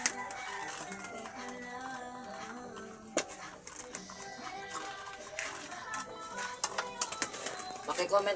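Pigeons coo in a busy outdoor spot, their soft calls mixed with chirps and clattering, scattered sharp knocks growing busier toward the end, under a steady background din.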